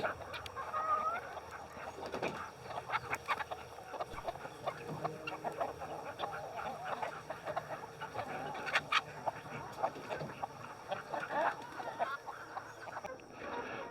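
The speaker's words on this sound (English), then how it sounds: "that is additional protein for our chickens" Egg-laying chickens on pasture cluck and chatter steadily around a nearby yard, with scattered scratching and pecking noises over a constant outdoor background.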